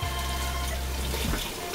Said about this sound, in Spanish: le agregamos el agua